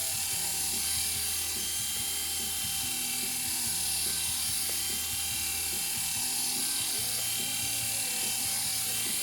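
Electric clippers buzz steadily at close range while shaving a Labradoodle's curly hair, a continuous high whine with faint rhythmic clicking underneath and no talking.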